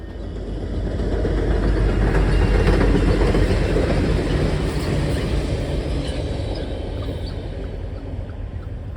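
A westbound Santa Fe freight train pulled by B40-8W locomotives rumbles past with a loud, continuous roar and rolling wheel noise that swells and then eases, heard close by with no talking.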